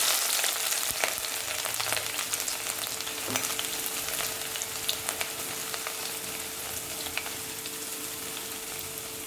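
Crushed ginger and garlic with dried red chili fry in oil for kappa fish biriyani, giving a dense, even crackling sizzle close by with no voices.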